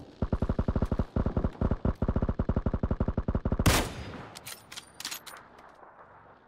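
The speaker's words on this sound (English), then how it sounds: "I get shot from behind here." A long rapid automatic burst of gunfire in PUBG, evenly spaced shots for several seconds, then a sharp louder blast as the player is hit from behind, followed by scattered fainter shots fading out.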